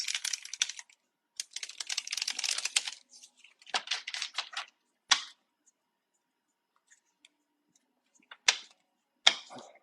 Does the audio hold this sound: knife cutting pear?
no